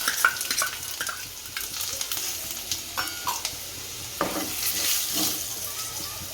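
Chopped garlic and cumin seeds fry in hot oil with a steady crackling sizzle, broken by repeated scraping stirs of a spoon in the pan, close and moderately loud with no talking.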